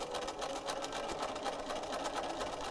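A sewing machine runs steadily, its needle top-stitching flat felt seams on fabric bloomers in a fast, even mechanical rhythm, close and alone.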